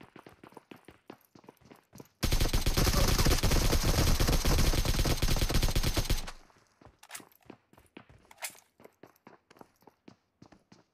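Rapid automatic gunfire in a video game, a dense sustained burst lasting about four seconds, loud and close, set between quieter scattered clicks and footstep-like taps.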